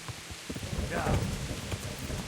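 Steady rain falls in the medieval video game Kingdom Come: Deliverance, a dense patter with low rumbling swells, heard under a voice talking throughout.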